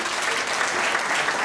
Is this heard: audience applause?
yes